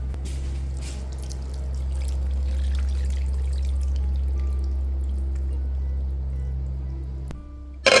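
Liquid pours and trickles into a slow cooker of pea and ham soup, a soft watery stream over a steady low hum that ends in a brief clunk.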